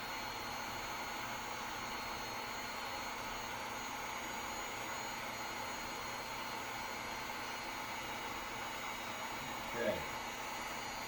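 Heat gun blowing steadily on PVC pipe to soften it for a dust collection hose adaptor, a constant broadband whoosh of hot air throughout with a brief low thump near the end.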